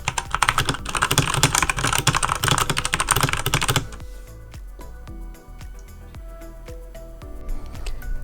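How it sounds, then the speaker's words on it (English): Rapid typing on a low-cost mechanical keyboard recorded up close, a dense burst of clacking keys followed by slower, individually spaced key presses, loud and near with no voices. "For a close-up on the sound of the actual keys themselves, we have our microphone pointed directly at the keyboard"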